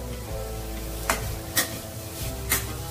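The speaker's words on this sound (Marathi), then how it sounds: "4 ते 5 मिनिट आपल्याला लो फ्लेम वर परतून घ्यायचं आहे।" Sweet modak filling with cardamom powder is stirred in a pan over a low flame, with a few soft scrapes of the spoon over a steady low hiss and hum.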